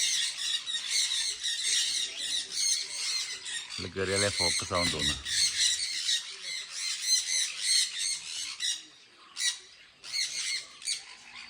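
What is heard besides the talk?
birds squawking in aviary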